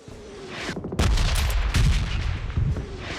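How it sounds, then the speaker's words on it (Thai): Dense video game gunfire rattles in rapid bursts, mixed with heavy booming impacts, loud and continuous. "มันยิงกันมันยิงกัน"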